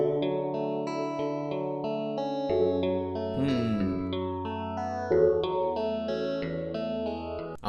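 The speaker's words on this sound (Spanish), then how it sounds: "Le puse estos efectos, un ecualizador, un filtro, y para darle más espacio" A reggaeton beat built in BandLab plays continuously, its synth chords and deep bass shaped by equalizer, filter, delay and reverb effects, giving layered sustained tones with echoing tails and shifting chord changes.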